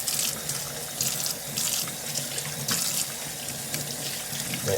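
Hot water runs from a tap into a sink as hands are washed under it, a steady close splashing stream with recurring brighter bursts as the hands move through the flow.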